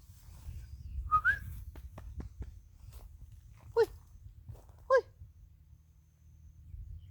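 A person whistles to call a dog at a home driveway, with several short, rising whistle calls spaced across the clip over a low background rumble.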